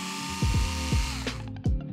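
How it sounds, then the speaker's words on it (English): A 2mm hex driver works the upper outer camber link screws on a 4x4 RC model during a transmission upgrade, giving a few short, close ratcheting clicks and whirring turns over a steady background hum. "I'm gonna use a 2mm hex driver, starting with the upper outer camber link."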